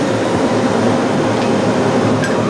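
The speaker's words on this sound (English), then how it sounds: "So you're turning on this big vacuum cleaner?" A large shop vacuum roars steadily and loudly at close range, a constant broadband whoosh with a low hum underneath and no talking.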